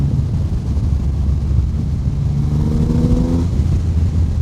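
A 2024 Triumph Rocket 3 GT Storm motorcycle accelerates, its engine note climbing in a rising growl partway through under steady wind rush from riding.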